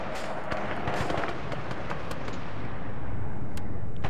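Dense, continuous gunfire in the military game Arma 3, a steady wash of crackling shots and sharp cracks with no pause, distant and rumbling overall, growing slightly louder toward the end.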